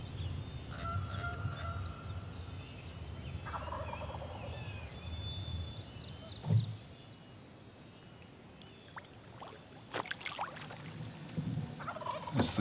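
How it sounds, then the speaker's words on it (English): Wild turkey gobbling repeatedly in answer to a crow's caws outdoors near water, rattling calls rising at intervals over a steady background hum, loudest in a sharp burst midway. "every time the crow caws, there's a turkey over here that's responding."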